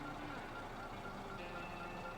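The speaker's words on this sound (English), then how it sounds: "When it does that slower beep," A truck in the Snowrunner video game beeps while reversing, the tone slower and intermittent above a constant heavy engine drone, the beeps thin and half masked by the rumble.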